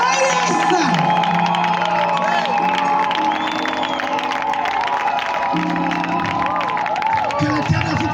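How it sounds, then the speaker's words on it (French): Crowd at a church camp gathering cheers, shouts and applauds together, loud and continuous, with whoops and excited voices rising over steady clapping throughout. "Poussons les cris avec les acclamations."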